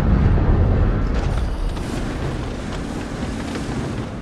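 Deep rumbling blast of a tank shell hit in World of Tanks Blitz, loud and broadband at the start and decaying into a sustained low roar.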